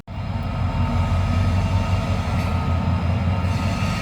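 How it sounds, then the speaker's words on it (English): A train rolls past on a nearby railroad, a continuous loud rumble of wheels and cars that holds steady throughout, heard from close by at ground level among thorny brush. "speaking of trains, I'm on my knees so they don't see me"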